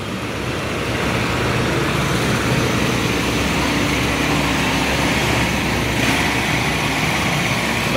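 A 2024 Honda XRM 125 Fi DSX Extreme motorcycle engine running, a loud, steady hum with road and wind noise throughout and no break.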